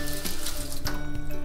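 Tap or shower water gushes under high pressure in a Finnish home, a steady loud hiss with no talking over it.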